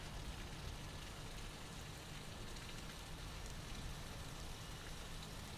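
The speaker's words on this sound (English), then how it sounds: "It's like, I would say, moderate to heavy precipitation." Moderate to heavy rain at Gerald R. Ford International Airport in Grand Rapids gives a steady, even hiss. It is faint and continuous, with no voices.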